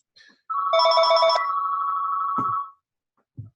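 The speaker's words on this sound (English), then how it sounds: "Nice when the phone rings in a video." A telephone rings once in a quiet room, a loud electronic trilling tone lasting about two seconds, followed by short faint knocks.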